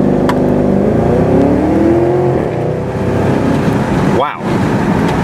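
A Porsche Panamera Turbo accelerates hard from inside the cabin, its engine and exhaust roaring loudly and climbing in pitch through the gears.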